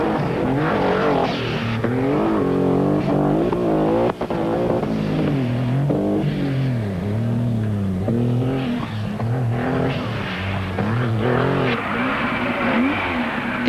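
Porsche 4x4 rally car at the 1986 Rallye des 1000 pistes races along a dirt stage, its engine revving hard and falling between gear shifts in rising and dropping sweeps, loud and close for the whole stretch.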